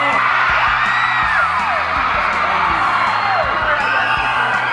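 A convention crowd whoops and yells continuously in a large hall, a dense roar of many voices with rising and falling cheers, loud and sustained throughout.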